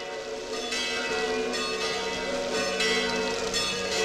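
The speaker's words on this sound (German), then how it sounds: "Das ist die Glocke von Rakoven." A church bell of Rakoven rings in a steady sustained peal with several overlapping strikes, distant and continuous, with no talk.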